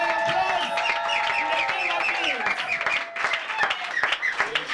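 A church congregation at an evangelist's ordination claps and shouts acclamations together, a loud, dense mix of applause and many raised voices with singing-like cries throughout.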